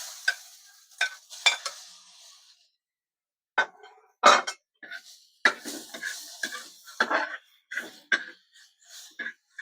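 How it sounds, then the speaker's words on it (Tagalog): Shrimp sauté in a pan amid bursts of stirring, with scrapes and clinks of a utensil against metal, a short quiet pause, then more rapid clattering over a faint sizzle. "Lagay na natin yung ating shrimps."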